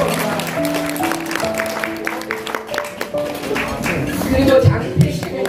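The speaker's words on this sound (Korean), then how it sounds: "큰 박수로 감사합니다" Applause at a charity dinner gala for a Rotary club anniversary: scattered claps from the room over background music and voices, moderately loud and continuous.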